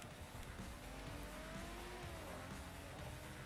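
A Tesla Roadster races in Forza Motorsport 4, giving a steady, loud drone of motor and road noise with rising and falling tonal sweeps and some tyre squeal throughout, with no talk.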